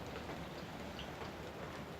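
Rain falls steadily outdoors, a soft, even hiss of drops on surfaces with no other sounds breaking through.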